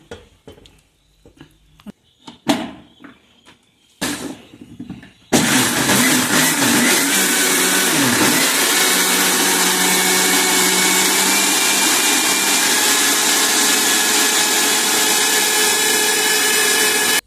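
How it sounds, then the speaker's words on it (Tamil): A kitchen mixer grinder blends cooked amaranth stem greens: a few clicks and knocks as it is set up, then the motor roars on and runs loud and steady to the end. "இப்போ நான் வந்து மிக்சியில் தான் அரைக்க போகிறேன்."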